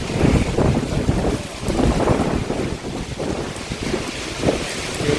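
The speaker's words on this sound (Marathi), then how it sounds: "एकदम बेकार वारा पाणी हो बघा." Strong storm wind and driving rain gust hard against the microphone, with rough, surging buffeting that rises and falls throughout, loud and close, and no talking.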